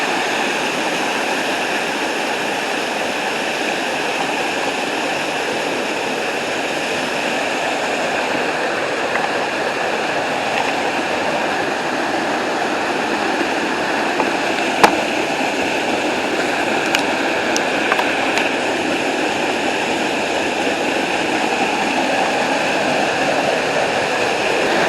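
A hidden waterfall in the hills of Portland, Jamaica, roars in a steady, broadband rush of falling water, constant and close, with a few faint clicks near the end and no voices.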